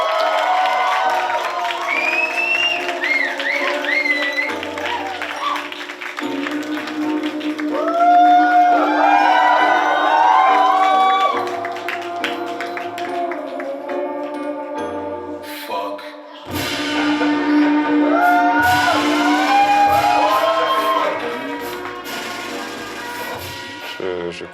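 Audience applause and cheering for a live performance, a sustained loud crowd roar with whoops rising and falling across the whole stretch, mixed with music.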